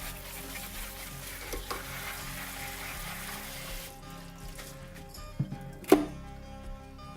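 Spinach rinsed under a kitchen sink spray, a steady close hiss of running water for about four seconds that then stops, followed by a few wet clinks and handling knocks.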